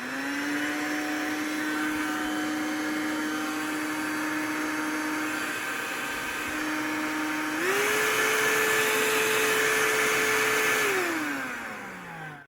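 A Parkside Silvercrest SHSA 20-Li A1 cordless vacuum cleaner runs with a steady motor whine, then climbs to a higher, louder setting before spinning down, heard alone and up close.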